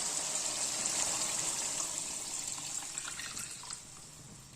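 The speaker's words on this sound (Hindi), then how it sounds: "अब इसमें मैं ये पानी डाल रही हूँ चावलों के लिए।" Water poured steadily into a cooking pot for rice, a continuous close splashing and gurgling stream that tapers slightly toward the end, with no talking.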